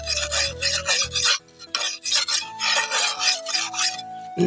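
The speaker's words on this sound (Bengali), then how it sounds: "এই যে ঠিক এইভাবে ঘষে ঘষে কিন্তু দায় ধার দিতে হয়" A tree-cutting dao blade being sharpened by rubbing it on sand, giving close, gritty back-and-forth scraping strokes in a quick, uneven rhythm with brief pauses.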